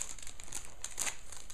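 Paper crinkling and tearing as a child opens a Christmas gift wrapped in Hello Kitty paper at home, with a steady run of rustling, ripping bursts that sounds close and moderately loud, with no talk over it.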